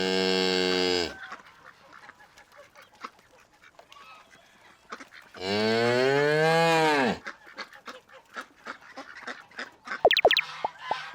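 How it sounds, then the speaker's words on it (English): A cow on a farm gives two long, loud, tonal moos separated by a quiet gap, each lasting over a second, followed by a few short calls near the end. "This is a cow. This is a calf."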